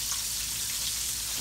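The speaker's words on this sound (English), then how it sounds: "Nothing like fried squash, y'all." Squash fries in a pan, giving a dense, steady sizzle and crackle close by, with no pauses.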